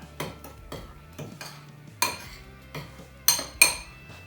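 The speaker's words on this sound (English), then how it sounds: "You can mix up your batter." Flour, salt, garlic and pepper batter stirred in a bowl, with distinct clinks of a utensil against the bowl in an uneven rhythm, several louder knocks standing out, close and clear.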